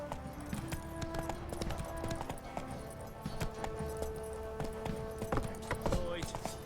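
Horse hooves in the Witcher 3 video game, a rhythmic clip-clop running steadily throughout with a few faint tonal game sounds underneath.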